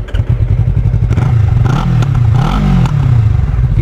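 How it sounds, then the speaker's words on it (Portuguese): A Yamaha MT-03 motorcycle with a modified exhaust idles with a deep, loud, pulsing burble close by, broken by a couple of brief throttle blips that raise the pitch before it settles back. "Ela ficou com um ronco muito bacana"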